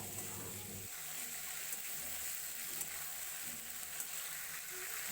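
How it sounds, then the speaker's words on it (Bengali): Cut eggplant frying with spice paste in a pan gives a faint, steady sizzle and crackle with a few soft stirring taps, no voices. "এবার আমি কেটে রাখা বেগুনটা মশলার সাথে দিয়ে মশলা আর বেগুন একসাথে কষিয়ে নেব"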